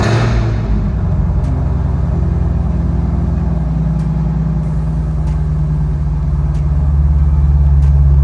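A push-start 2018 Chevrolet Camaro ZL1 engine turns over and settles into a steady, low idle rumble that continues throughout, loud and close.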